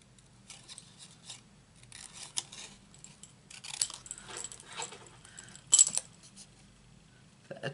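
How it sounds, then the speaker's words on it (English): Scissors fussy-cutting stamped card pieces from a Stampin' Up Floral Essence stamp set, giving sparse, quiet snips and paper rustles at an uneven pace, close by with no talking. "So all I do is fussy cut."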